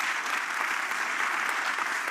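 Dense, even applause from an audience at the New York Stock Exchange following a speech by Japan's Prime Minister, a continuous wash of many hands heard from a distance with no voices over it.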